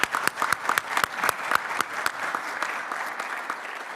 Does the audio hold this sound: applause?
yes